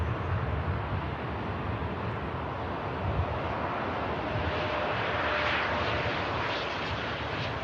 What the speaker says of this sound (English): Something touching down, actually. What's this? Oh, it's a Wamos Airbus A330.